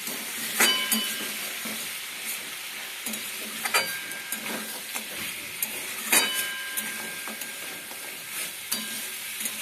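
Fried lentil dumplings (bori) with ridge gourd being stirred in a pan, steady sizzling and hissing broken by repeated scraping strokes of the spoon at an uneven rhythm.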